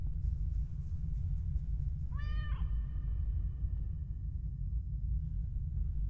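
A single drawn-out cat meow rising then falling, heard over a steady low rumble of background noise.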